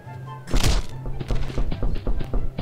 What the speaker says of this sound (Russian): О, такой звук, когда бегаю.